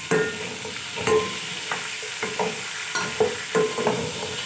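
Whole garam masala and ginger paste sizzle in hot oil in a pot while a spoon stirs and scrapes in repeated strokes, close and moderately loud with no talking.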